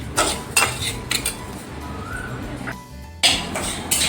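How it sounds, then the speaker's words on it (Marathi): Semolina dry-roasting in a pan over a low flame for mango sheera, with intermittent metallic scrapes and clinks of a spoon stirring against the pan, irregular and close, no talk. "तर आपल्याला हा रवा छान असा कोरडा भाजून घ्यायचा आहे"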